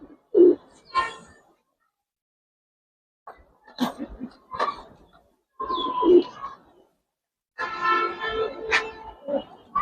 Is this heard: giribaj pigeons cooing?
yes